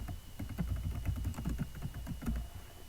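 Typing on a computer keyboard, a quick close run of irregular key clicks and taps with no one speaking.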